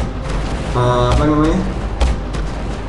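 Cannon fire from a combat drone in the mobile game Drone 2 Air Assault, a few booming shots spread across a few seconds, with someone talking over and between them.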